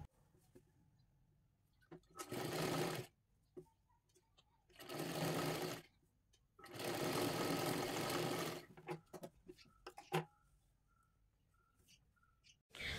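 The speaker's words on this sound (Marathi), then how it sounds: "दोन्ही बाह्यांना अशाच प्रकारे आपल्याला शिलाई मारून घ्यायची आहे" A sewing machine stitches the sleeves of a dress in three sustained runs, each a few seconds long, separated by quiet pauses with faint handling clicks; it sounds close and clear, with no talking.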